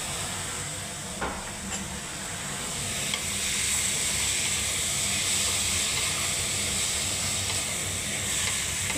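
Radish and potato with onion and green chilli frying in a little oil in a pan, a continuous hissing sizzle with faint scraping of stirring, one brief clack early on, steady and close without speech.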